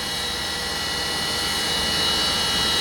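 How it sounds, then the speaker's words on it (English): A wood lathe spins wide open at full speed while set up to rough out square pen blanks with a 3/4 inch roughing gouge, giving a steady, loud, high-pitched whine and broadband whoosh with no talk. "turning my lathe wide open"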